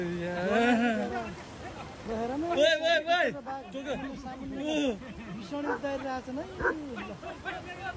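A dog barks at a tiger in short repeated bursts, mixed with people's voices talking and chattering nearby.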